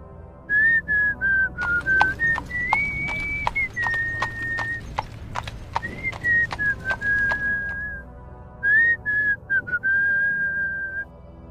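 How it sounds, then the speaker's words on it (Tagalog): A man whistles a wavering tune while riding a walking horse, with steady hoof clip-clops close by under the melody and brief pauses between whistled phrases. "Habang marahan nilang pinapalakad ang kanila noong mga kabayo, pasipol-sipol pa nun si Zed."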